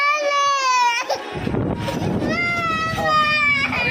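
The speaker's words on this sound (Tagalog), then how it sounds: "Bata, iyak ng iyak." An infant cries loudly in repeated high, wailing bursts at home, with a noisy rustling break in the middle before the crying resumes close by.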